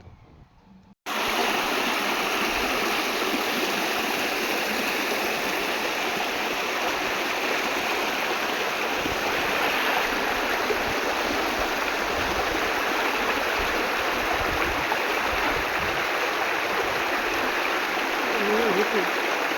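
Water from a drainage channel pours steadily through a mosquito net strung across the drain at a fish and free-range poultry farm, a loud continuous rushing that starts abruptly and runs unbroken to the end.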